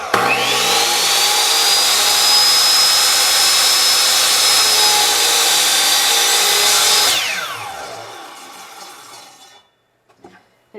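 A Mighty Mitre Saw cuts wood on a workbench with a dust collector nearby. Its motor whines up to a loud, steady high pitch for about seven seconds, then winds down to quiet, followed by a few faint clicks.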